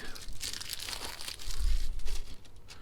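Paper wrappers from cookies crinkle and crumple continuously at close range during the cleaning of a camper, rustling crackles rising and falling with a heavier crunching burst partway through.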